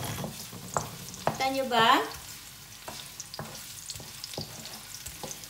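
Garlic sautés in a pan for homemade adobo with a close, crackling sizzle and a brief louder hiss as it is stirred, while someone speaks briefly over the cooking.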